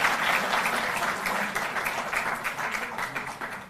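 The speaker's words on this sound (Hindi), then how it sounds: "जोरदार ताली इनके लिए" A crowd at a Delhi government ceremony honouring school sports athletes gives steady applause, moderately loud and even, fading slightly toward the end.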